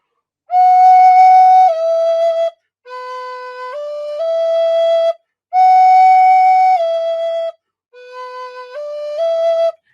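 Native American flute phrases begun with a who attack, pushing slightly more air for a firmer onset, four sustained passages of stepping notes separated by short pauses, solo and close without speech.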